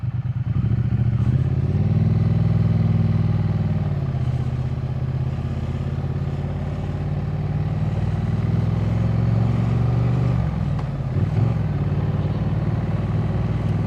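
A Triumph Speed Twin 900 motorcycle being ridden, its engine droning loud and steady with shifts in pitch as it changes gear, plus wind rumble, with no talk.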